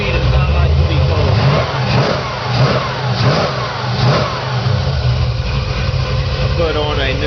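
A 1972 Chevrolet Chevelle V8 engine runs steadily and loudly up close in cold weather, holding a low rumbling idle with a few revs rising over it and no voices.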